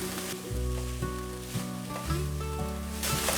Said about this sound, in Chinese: 调味料炒匀后，放入少许的芹菜。 快速的翻拌一下